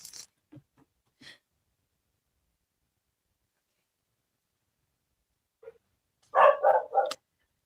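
A dog barks in a quick burst of three or four yaps, loud and close, after a few faint scattered noises and a long silence.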